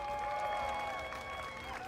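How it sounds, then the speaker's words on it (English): Crowd applause for contestants at the Mario Kart 8 Deluxe AU/NZ Championship, steady clapping from a large audience, continuous and fairly loud throughout, with no clear talking on top. "give a massive round of applause to all of our contestants here today"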